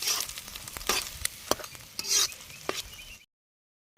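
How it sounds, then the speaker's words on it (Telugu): Faint sizzle of an egg frying in a pan as turmeric is added, with scattered scraping and stirring clicks before the sound cuts to silence. "ఇప్పుడైతే పసుపు వేస్తున్నాం. గుడ్డు కొంచెం వేగింది."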